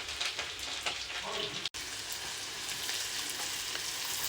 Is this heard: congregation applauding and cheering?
no